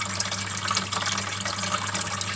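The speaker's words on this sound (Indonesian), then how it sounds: "Nah, ini airnya juga kita mulai kuras ya, jadi" Water runs and trickles steadily as a turtle tank is drained, a continuous close splashing flow with no one talking.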